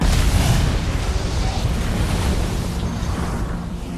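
A ship explodes in a film action scene, a loud sustained roaring rumble of blast and churning water that slowly settles, heard close and alone.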